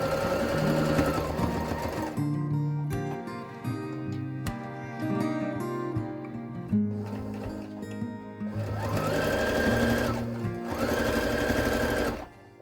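Sewing machine stitching up the straight sides of a small heart-corner fabric bookmark made from scraps, running in steady bursts with brief pauses between seams, close and clear.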